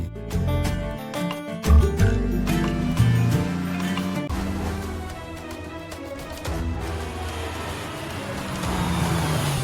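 A car pulls away nearby as its engine revs and the road rumble fades. Background music plays over it.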